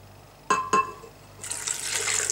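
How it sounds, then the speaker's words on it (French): Water is poured into a blender holding mango and pineapple pieces for a detox granita. Two sharp knocks come first, then a steady, close-up pouring rush for about a second. No one speaks. "Alors, je vous ai mis les mangues et les ananas dans le blender. Donc, on va rajouter l'eau."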